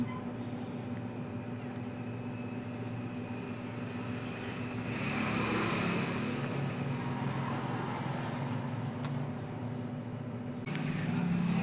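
Constant low traffic rumble from vehicles passing on a busy weekly market road, swelling as one goes by mid-way and again near the end.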